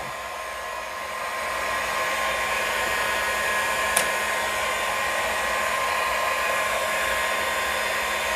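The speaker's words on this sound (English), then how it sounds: "I warm up the surface next to my dop station, the stone, the wax, everything with the heat gun" A heat gun blows steadily, warming stone and wax beside a lapidary dop station for cutting a picture jasper cabochon, a close, even whooshing hum with one faint tick midway and no speech.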